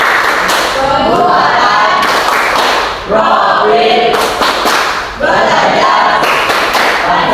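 Rhythmic group clapping in a Tepuk P5 clap routine, led during a school presentation briefing; sharp clustered claps come in bursts over a loud room, with voices speaking and chanting throughout.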